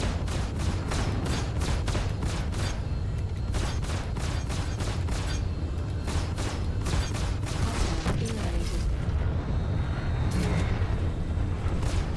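A spaceship gun fires in Star Citizen's Arena Commander, a rapid, rhythmic string of loud blasts repeating steadily over a constant low engine rumble.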